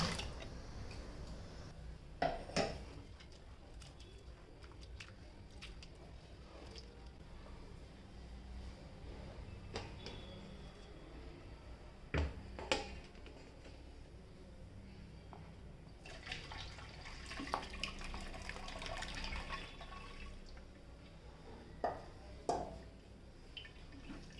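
Coarsely ground wheat is washed by hand in water, with faint sloshing, squeezing and trickling sounds. Scattered soft splashes and drips recur in a quiet room.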